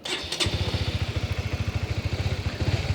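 A manual-clutch motorcycle engine idles and then revs with a rapid, regular pulsing putter, close and fairly loud, preceded by a brief clack, with no talk.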